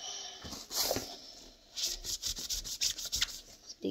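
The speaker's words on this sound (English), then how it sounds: "you need to rub it really hard to get it out." A Magic Eraser is rubbed hard over the hat of a Woody toy, making close, rhythmic scrubbing strokes in rapid back-and-forth bursts, fairly faint and alone.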